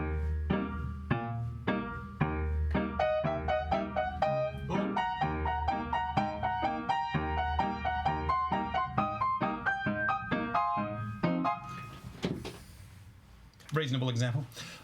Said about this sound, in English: ragtime, where we play a single note in the left hand and a chord in the right hand.